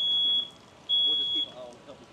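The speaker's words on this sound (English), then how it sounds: "your smoke detector is going to keep going off because it's going to go off because of smoke" A smoke alarm sounds two piercing high beeps, one short and one longer, during a fire sprinkler system demonstration, with quiet voices talking in the background.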